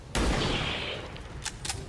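A single loud gunshot from the tactical game XCOM 2: War of the Chosen cracks sharply and rings out with a long decaying tail, followed by a couple of fainter pops.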